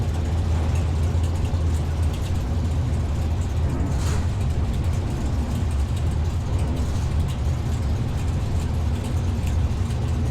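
Drag racing cars sit idling at the line before a run, a continuous low engine rumble that holds steady and loud throughout, with no clear revving.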